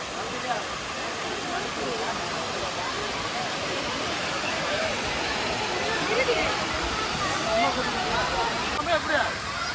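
Water rushes over Kodiveri waterfall in Tamil Nadu as a steady, loud, close roar that stays constant throughout, with faint voices in the background.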